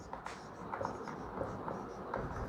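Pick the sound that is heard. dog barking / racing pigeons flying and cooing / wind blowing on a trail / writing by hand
writing by hand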